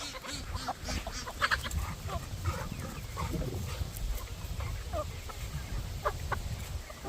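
Free-roaming chickens and ducks in a farmyard, with steady overlapping clucks and scattered quacks and calls close by, under a continuous low outdoor hum.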